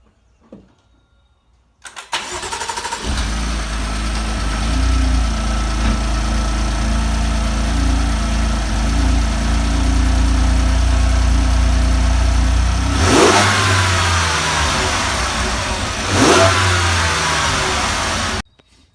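A BMW M4 engine with an aFe Magnum Force Stage 2 intake cranks and fires up, then settles into a steady, deep idle, with a couple of brief revs near the end before it stops.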